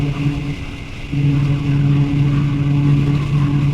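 Motorcycle engine running rich under load, a loud, close, steady low drone that lifts in level about a second in and holds its uneven note.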